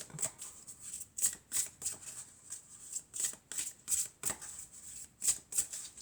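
A deck of tarot cards is shuffled by hand in a series of crisp riffling bursts that come in an irregular rhythm, close and moderately quiet, with no speech over them.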